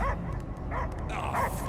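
Barking and yipping from a dog in Marvel's Guardians of the Galaxy on PS5, several quick barks running steadily under dense game ambience.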